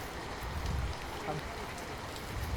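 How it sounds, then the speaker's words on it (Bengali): Steady rain pattering on surfaces outdoors, a dense continuous hiss with faint voices murmuring underneath. "সত্যি সত্যি বৃষ্টি চলে আসছে"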